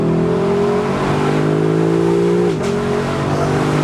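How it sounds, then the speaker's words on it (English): 2021 Lexus LC 500 Convertible engine at full throttle in second gear, a loud growling rasp that climbs steadily in pitch and then drops sharply at a gearshift near the end. "But if I go full throttle, it sounds a little growlier."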